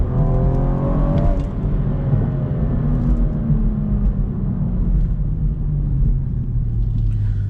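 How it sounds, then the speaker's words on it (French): BMW M135i engine revs hard and accelerates, a loud rising howl heard from inside the car, with a gear change about a second in before the pitch climbs again over steady road rumble. "on reconnaît là le son BM qui hurle"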